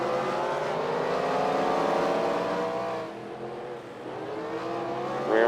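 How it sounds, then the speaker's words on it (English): Race cars pull off pit road in a racing video game, a loud engine whine sweeping up and down through gears as cars rev and pass, with another car rising at the end. "So when these final cars here clear off of pit road,"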